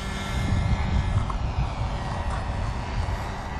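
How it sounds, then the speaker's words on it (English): A scratch-built homemade aerobatic model airplane on a test flight passes overhead, its small engine giving a steady, buzzing drone that swells slightly as it nears, loud and continuous with no talking. "The airplane is coming right back."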